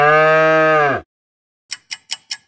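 A long, loud cow moo lasting about a second, then silence, followed by four short, evenly spaced bursts of a different sound.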